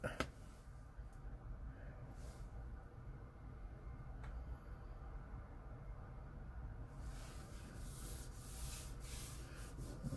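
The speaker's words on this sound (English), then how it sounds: "I'll rub it down really good." Steady soft rubbing of fingers pressing tape down over a Tesla Model 3/Y screen protector, continuous scuffing friction throughout, close and moderately quiet with a faint background hum.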